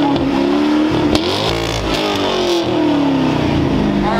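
A Dodge Hellcat at an outdoor car meet revs loudly and close by, its engine note rising and falling through a few throttle blips over a steady rumble.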